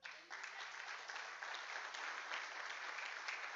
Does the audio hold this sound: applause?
yes